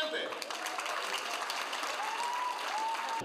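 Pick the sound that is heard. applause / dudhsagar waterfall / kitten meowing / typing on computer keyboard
applause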